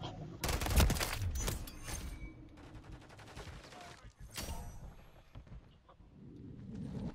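Gunfire in the video game Modern Warfare 3 cracks out in several sharp bursts, one loud close blast early on, then scattered shots and rattling volleys with quieter gaps between them, and no clear speech over it.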